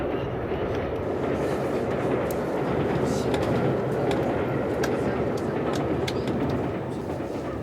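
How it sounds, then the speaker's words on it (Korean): Qinghai-Tibet railway passenger train travelling from Xi'an, a steady loud rumble of wheels and carriage noise with faint rhythmic clicks, heard from inside or close by, continuous throughout. "시안에서 칭짱 열차를 탄 지 10시간."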